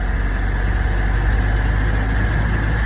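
A Jeep engine runs steadily at idle, a continuous loud low rumble with an even drone and no pauses, heard close up.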